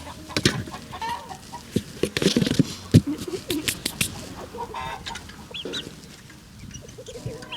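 Chickens cluck and call inside an enclosed coop area, with a busy, irregular run of clucks and squawks from several birds close by. No one speaks.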